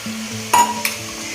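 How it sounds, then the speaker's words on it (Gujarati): Paneer sabji with dhokli being stirred in a pan: two sharp spoon scrapes against the pan over a steady low sizzle, close and clear with no talking. "હવે ધીમે ધીમે મિક્સ કરી દઈએ."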